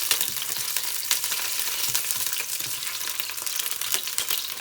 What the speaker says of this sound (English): I'm just browning them all, which can take a little bit of time because there's 2 pounds of them.